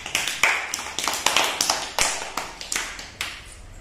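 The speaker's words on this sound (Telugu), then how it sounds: "క్లాప్స్ కొట్టండి ఎలైషాకి" Classroom of first-grade children clapping for a classmate, a quick run of uneven, overlapping claps from several small hands, close and lively, with no voices over them.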